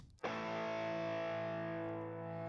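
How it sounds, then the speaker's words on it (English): Heavily distorted electric guitars enter with a sudden loud chord after a brief quiet lead-in, then ring out as a thick, sustained wall of sound in a music production, holding steady and slightly fading toward the end. "distortion guitars come back in."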